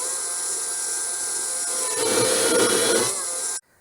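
A Ryobi R18PD5 brushless cordless drill/driver whines steadily at a high pitch, grows louder and rougher near the end, then cuts off abruptly, with no voices.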